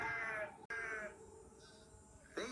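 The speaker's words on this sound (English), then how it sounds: "The noisy sheep were spoiling his peace and quiet." Sheep bleat repeatedly near a broken fence in a rural setting, a run of loud, wavering calls with a short gap and a fresh bleat near the end.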